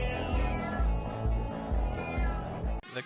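Cat meowing within a song, the repeated meows sitting over a loud, dense musical backing that continues steadily before cutting off abruptly near the end.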